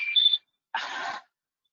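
A computer or phone rings during an online library book club meeting, giving two short electronic ringtone bursts separated by a brief gap, loud and close with no talking over them.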